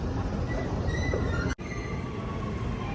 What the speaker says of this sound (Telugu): మెట్రో వచ్చింది ఇప్పుడే.